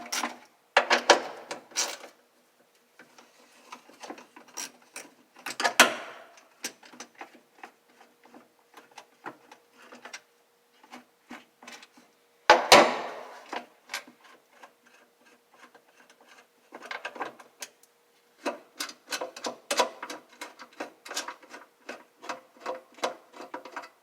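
A ratchet removes the trunk latch bolts on a 1968 Mustang, heard as close bursts of rapid clicking separated by pauses, with metallic clunks in between.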